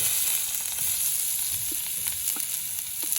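Onion crackles and sizzles steadily in a hot pan, a constant close frying hiss broken by light stirring taps, with no voices.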